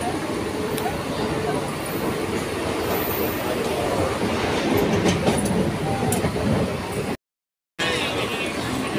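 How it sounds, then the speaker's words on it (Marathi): A crowded Mumbai local train on the Virar to Churchgate line runs with a continuous loud rumble and rattling clatter, voices mixed in, and a brief dropout near the end. "विरार ते चर्चगेट या गाडी पहिली गाडी असो अथवा शेवटची गाडी असो, कधी पण तुम्ही या नेहमीच घसभरलेली असते"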